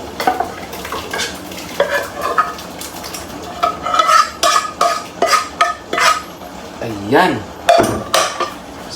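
Mung beans stirred in a pan for guisadong mongo, with repeated scraping and clinks of a metal utensil against the pan over a light sizzle, close and clear, and a brief spoken word.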